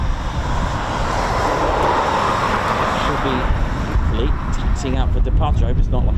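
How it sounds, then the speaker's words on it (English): A Douglas Dakota taxiing out for departure, its piston engines giving a steady, continuous drone at moderate distance that holds through the whole stretch, with wind noise and people talking nearby. "Taxiing out for departure."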